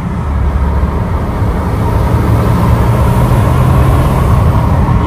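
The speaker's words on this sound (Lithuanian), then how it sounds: "Jeigu girdėt, tai labai panašu, kad turim kažkur tai kiaurą vamzdį." A tuned car with a suspected leaking intercooler or boost hose revving, a loud, steady roar of engine and rushing air sustained throughout, no voices.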